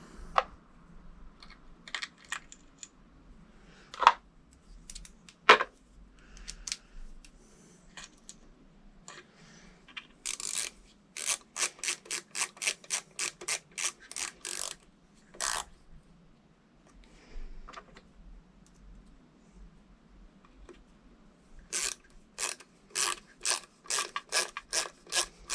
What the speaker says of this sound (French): On remet les deux petites vis.